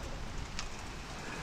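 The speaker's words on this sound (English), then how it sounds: "let me not stand out here in the rain" Rain falls outdoors on a farm field during soybean planting, a steady broadband patter with one brief brighter splash, fairly faint and continuous, no talking.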